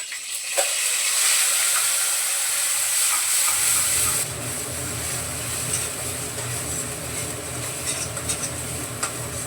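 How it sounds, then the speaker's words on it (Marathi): Ground masala paste sautés in oil with cumin and torn bay leaf for a paneer curry. A bright, loud sizzle fills the first few seconds, then settles into a softer, rumbling fry with faint stirring, and no one speaks. "जे वाटण केलेलं आहे हे पहिलं परतून घ्यायचं आहे"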